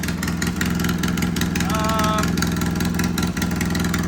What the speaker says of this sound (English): This thing has a bad exhaust leak over here somewhere.